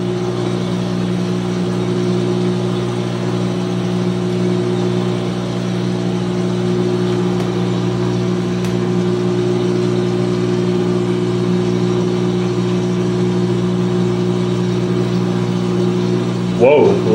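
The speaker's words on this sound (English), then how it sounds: "this drain pump is definitely louder than the Speed Queen or the direct drive itself altogether" A 2006 GE Profile washing machine's drain pump runs with a steady, loud hum and a stack of even, unbroken tones, holding constant for the whole stretch with a brief shift at the very end.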